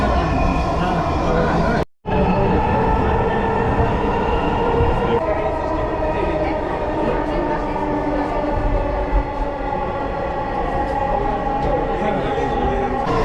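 A Dhaka metro train rushes past close by on an elevated viaduct with a loud, steady rumble and rattle that holds for several seconds, then fades slightly.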